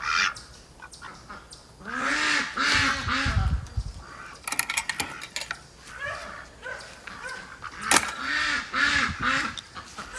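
Backyard ducks, drakes and hens, quacking loudly and repeatedly at close range in overlapping rhythmic bursts, with some harsher calls mixed in and no talk.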